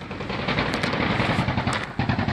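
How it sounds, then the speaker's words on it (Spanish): Gunfire from a played video recording, a dense, continuous burst filling the whole stretch like sustained automatic fire, loud and somewhat distorted, with a brief dip near the end before it resumes. "Ahorita van a oír cómo se escuchó. Los balazos."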